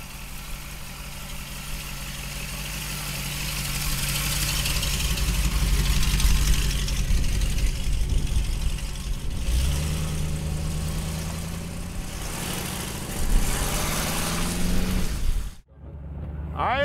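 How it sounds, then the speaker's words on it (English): A 1932 Ford Hi Boy with a big block Chevy engine and a custom exhaust idles close by in a deep, steady rumble, briefly cutting out near the end before it catches again. "Big block Chevy, awesome exhaust system."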